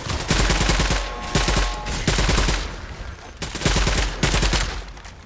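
Rapid automatic gunfire rattles in a Roblox alien encounter game, loud and close, coming in several sustained bursts separated by brief pauses.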